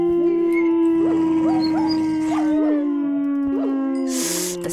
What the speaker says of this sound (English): The sad puppy noises are so bad.